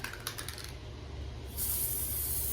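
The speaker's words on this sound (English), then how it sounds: "So basically, I'm spraying one area." Spray adhesive hisses from a can onto a wall being prepared for peel-and-stick dollar store tiles, a few short clicky bursts first, then a brief pause and a loud steady spray.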